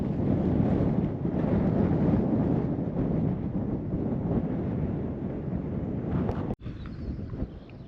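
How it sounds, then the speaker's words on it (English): Strong wind buffets a microphone on a cool Lake District hilltop at Angletarn, a continuous low roaring rush with gusty swells, loud and close, ending in a sharp thump and a quieter stretch. "There's a fairly strong wind blowing"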